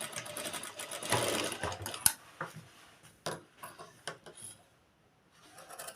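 Sewing machine stitching a ticket pocket, a close rapid mechanical whirr that rises into a dense burst, then breaks into scattered ticks and short runs before trailing off.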